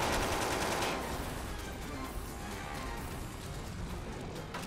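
Sustained automatic gunfire from the video game Mindjack rattles on continuously, loud and dense from start to finish, with a sharp report at the very end.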